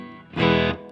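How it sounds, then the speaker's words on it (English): Electric guitar played through the room reverb of a Strymon Iridium amp modeler, one short distorted chord swelling and held for about half a second before cutting off, with no talk over it. "that room reverb"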